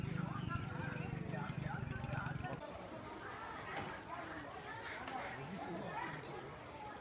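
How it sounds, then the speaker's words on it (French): Steady crowd chatter fills a busy weekly interethnic Sunday market in North Vietnam, with overlapping voices and a louder low murmur in the first couple of seconds. "le marché interethnique qui se tient tous les dimanches"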